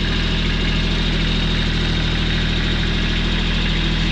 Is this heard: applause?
no